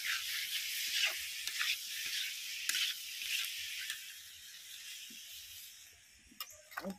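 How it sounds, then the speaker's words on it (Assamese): A steady, quiet sizzle of mutton frying in a pan, with a few soft clinks and scrapes toward the end. "মাংসটো 20 মিনিটমান ভাজি লৈছোঁ"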